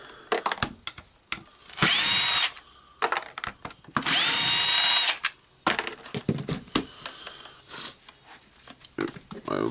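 A power tool whirs in short bursts while backing out the housing screws of a Dewalt D25831 SDS plus rotary hammer drill during disassembly, with two longer loud whines between quieter clicks and handling clatter close by.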